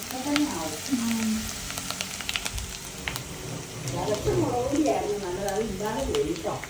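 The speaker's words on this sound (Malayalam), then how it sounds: "അങ്ങനെ ഉലർത്താനായിട്ട് 2 തരം ഉള്ളി." Two kinds of onion sautéing in a pan with crushed curry leaves, a soft sizzle and scattered crackles running under someone talking throughout.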